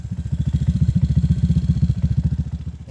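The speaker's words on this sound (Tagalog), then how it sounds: "Yan yung gamit nating motor, ADB 150. Bali naka Bamos na pipe na siya, modified pipe na yan." An ADV 150 motorcycle fitted with a modified Bamos exhaust pipe idles close by, giving a deep, steady, throbbing burble of rapid regular pulses, loud and alone.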